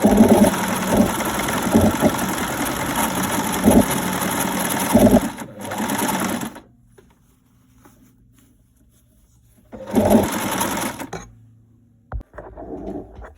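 A sewing machine stitches a sleeve onto a dress in fast, steady bursts, stopping for a silent pause before running again briefly, close and loud with no talk.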